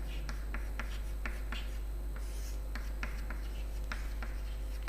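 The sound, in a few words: pencil or pen writing on paper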